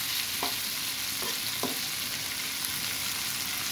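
Food fries in a pan while dal is cooked with potato and tomato, giving a steady close sizzle with a few soft stirring scrapes early on, with no talk.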